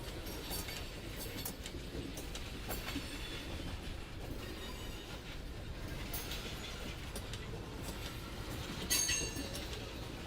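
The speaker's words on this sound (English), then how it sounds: "As our train rolls out of town here at the south end of the DeButts" A freight train of tank cars rolls out of the Norfolk Southern DeButts rail yard, a steady close rumble of wheels with rhythmic clacks and a brief metallic squeal near the end, with no talk.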